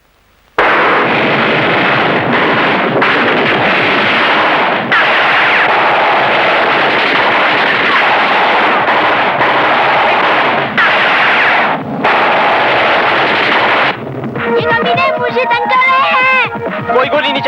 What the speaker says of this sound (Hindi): पुलिस अंकल, गोली चलाना बंद कर दो